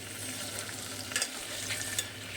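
Mixed vegetables for veg pulao stirred and fried in a pan, a soft continuous sizzle with a few scraping clinks of the spoon against the pan, close and fairly quiet with no talking.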